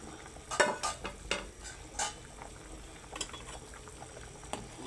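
Hilsa fish curry simmering in a pan after the fish goes in, with soft bubbling and several distinct scrapes and clinks of a spoon stirring, fairly close and moderately quiet.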